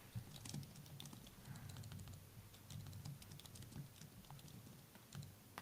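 Rapid, irregular clicking of computer keyboard keys, steady and close, with no voices.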